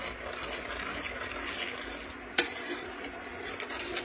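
A bubbling mixture cooking down toward a golden honey-brown colour in a pan, stirred steadily with a soft continuous scraping and bubbling texture, plus one sharp utensil clink near the middle.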